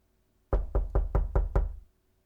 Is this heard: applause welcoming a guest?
no